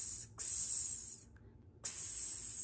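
A voice imitates the letter X as a sharp, hissing "ks" sound, repeated as three loud bursts separated by short silent gaps.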